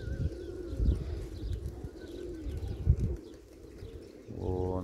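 Crested pigeons at a loft, low throaty cooing repeating in soft pulses close by, with wing flaps and a brief flutter at the end.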